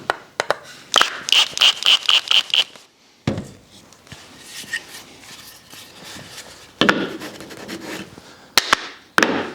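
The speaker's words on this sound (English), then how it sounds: "Now, little countersunk hole there and there, and we can screw these in place." Screws are driven into countersunk holes in wooden workshop push blocks, with rapid ratchety clicks and wood-scraping rubs up close, broken by short gaps and sharp knocks.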